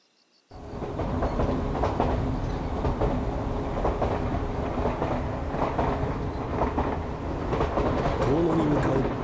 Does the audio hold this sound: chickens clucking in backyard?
no